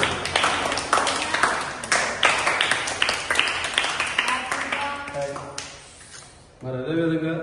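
An audience applauds for Junnu's family members, a close burst of hand claps in quick uneven rhythm that thins and fades, followed by a voice speaking at the end.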